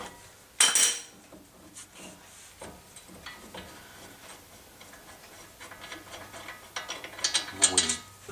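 Ratchet wrench loosening a 3/4 bolt on the disc brakes of a 2009 Z71 truck, heard as a series of close clicking bursts with metallic clatter, strongest at the start and again near the end.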